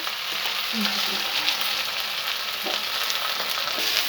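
Onion and okra frying together in hot oil with cumin seeds for a simple Punjabi bhindi dish make a loud, continuous close sizzle with faint stirring scrapes throughout.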